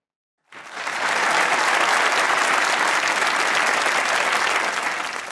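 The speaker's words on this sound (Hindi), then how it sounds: "इस बात पे तालियां होनी चाहिए" Studio audience applause on a comedy talk show bursts in after a brief silence and continues as a loud, even, dense wash of clapping, with no talking heard over it.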